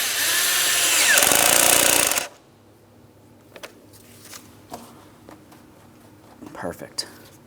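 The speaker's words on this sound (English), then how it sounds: "We'll tighten that clamp." A hose clamp is tightened with a power tool during ignition coil work on a 2003-2007 Cadillac CTS 3.6L V6, a loud buzzing whir for about two seconds, followed by quiet clicks and taps of handling parts.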